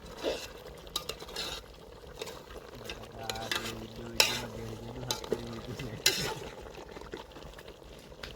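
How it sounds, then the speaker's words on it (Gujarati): Potatoes frying and being stirred in a pan, with a soft continuous sizzle under repeated scraping and clattering strokes of a spoon against the metal, close and fairly quiet, with no talking. "હવે બટાકા નાખીને આપણે ચેળવીએ છીએ."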